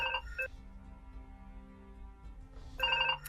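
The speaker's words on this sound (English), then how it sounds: "the phone is just ringing." A telephone rings in two short electronic trills at the start and end, moderately faint, with a low steady tone between them.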